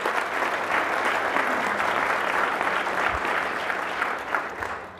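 An audience at a Canadian Wind Energy Association event applauds a wind energy student, steady sustained clapping at an even level that tapers slightly near the end.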